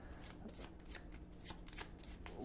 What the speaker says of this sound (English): We'll shuffle these up here, and then we'll deal 2 because we have 3 people playing the game.